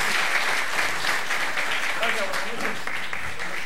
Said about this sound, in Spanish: quiero que le den un nuevo aplauso